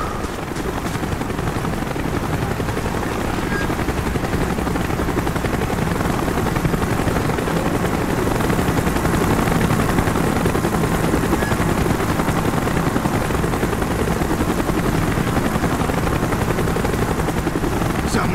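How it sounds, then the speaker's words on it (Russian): Helicopters fly over a military base under alert in Call of Duty: Black Ops, a dense, steady rotor roar that fills the whole stretch at constant loudness, with faint gunfire mixed in. "Вертолеты,"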